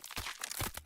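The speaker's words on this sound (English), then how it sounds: "Oh, I was just doing some stretches. Can't seem to do them without making these noises nowadays." A human body's joints crunching and cracking while stretching, a few short, close crackly pops in quick succession within under a second.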